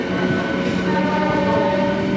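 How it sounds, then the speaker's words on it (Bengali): Special inaugural train from Amghata entering Krishnanagar City Junction station, heard as a steady, loud rumble of rolling wagons with a sustained horn-like tone and faint clatter, close by and with no talk. "আমরা এখন কৃষ্ণনগর সিটি জংশন স্টেশনে প্রবেশ করছি"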